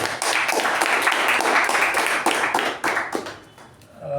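Audience applause at a Toastmasters club meeting, steady dense clapping that holds for about three seconds and then thins out and fades.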